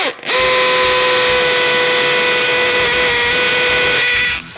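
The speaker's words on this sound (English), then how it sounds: "Put this in hammer action, right down top of the granite." A loud hammer drill runs steadily in hammer mode for several seconds, drilling into granite, a continuous high whine with rattling grind, close up.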